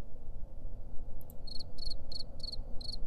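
Video game crickets chirp in short, regular pulses, about six in a row, over a steady low rumbling background, in a Wizard101 fan game.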